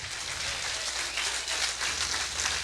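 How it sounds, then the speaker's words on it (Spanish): Church congregation applauding together, a steady dense wash of clapping like rainfall that holds evenly throughout, close and full with no voices above it. "¿Cuántos le pueden dar un aplauso a los que tienen una paternidad?"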